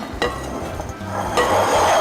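Kunafa dough and ingredients being mixed by hand in a bowl, with close scraping and clinking of a utensil against the dish. A couple of sharper knocks stand out over a soft rustling background.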